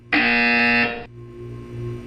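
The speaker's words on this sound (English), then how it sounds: "When you hear the buzzer, look down at the floor" A harsh electronic buzzer in the Portal 2 video game sounds once for about a second, loud and close, then cuts off, leaving a low steady hum behind it.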